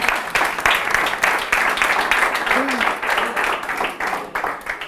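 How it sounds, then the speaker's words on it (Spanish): A live audience at a public-speaking event gives loud, sustained applause for a guest, a dense steady clatter of many hands lasting throughout with voices mixed in. "Un aplauso para el follonero,"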